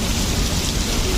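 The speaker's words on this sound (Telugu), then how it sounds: "వర్షం బాగా స్టార్ట్ అయిందంటే" Steady outdoor rain falling on wet roads during an unexpected downpour while jogging, a dense broadband hiss with no breaks, with thunder in the storm.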